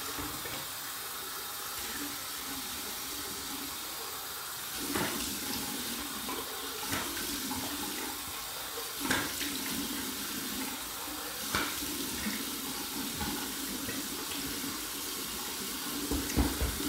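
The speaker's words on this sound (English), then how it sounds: "I'm going to do a warm and cold water rinse from the tap with fresh water" Warm water runs steadily from a sink tap for a rinse, a continuous hiss and splash with a few louder clunks and splashes as the flow is disturbed, close and alone.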